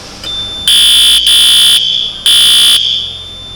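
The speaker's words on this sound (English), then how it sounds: "This alarm suggests fire breakout or any other natural calamity on a factory premise." A loud electronic factory fire alarm hooter blares in three long, steady piercing bursts separated by short gaps, with faint background hum.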